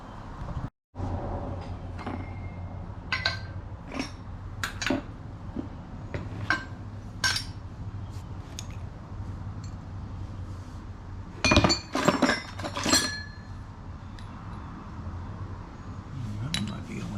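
Metal hole saws clink and clatter against each other as someone rummages through a mixed assortment in a workshop. Scattered sharp clinks come in irregular bursts, close and fairly crisp.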